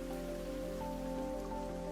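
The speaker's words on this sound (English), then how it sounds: "When rain hits a tree, its leaves and branches collect the water and soften its impact on the ground." Rain falls steadily on a tree with a soft, even patter on leaves and branches. A faint tonal hum sits beneath the continuous wash of drops.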